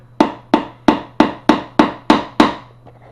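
Seven sharp hammer blows strike wood in an even rhythm during a bathroom remodel, each hit ringing out and decaying before the next. The blows are loud and close over a faint steady hum, with no talking.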